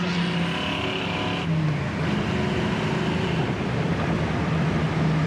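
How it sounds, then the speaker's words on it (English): Engine of a 1979 Chevy Camaro Z28 with a performance cam and upgraded equipment, driving along with a loud steady rumble and road noise throughout and a slight drop in pitch midway. "We're idling here at about 800 RPM, and just sounds awesome with that cam and performance equipment they put on there."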